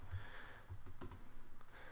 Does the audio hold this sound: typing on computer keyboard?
yes